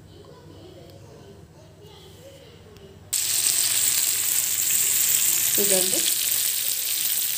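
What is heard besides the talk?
marinated chicken frying in oil on a tawa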